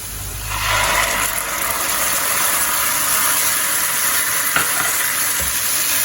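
Tomato paste goes into hot oil in a pan for restaurant-style matar paneer, setting off a steady, loud sizzle and bubbling hiss that holds evenly throughout, with a few faint clinks of a spoon.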